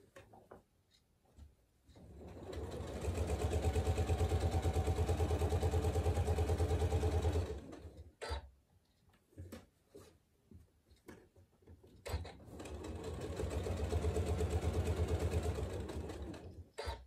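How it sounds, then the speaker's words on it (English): Sewing machine stitching a quarter-inch seam on a fabric table runner, running steadily in two long, whirring bursts separated by a pause with small handling clicks, close and fairly quiet. "I'm going to sew 1/4 inch down to the pin and then sew this remaining seam here."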